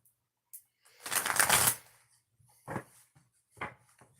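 A deck of cards is shuffled during a tarot-style reading, giving a long riffling burst followed by two shorter, crisp shuffles, close and clear with no talking.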